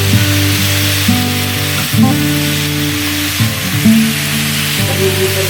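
Cut taro pieces fry loudly in a pan, a dense continuous sizzle close up, overlaid by a steady droning hum that shifts pitch a few times.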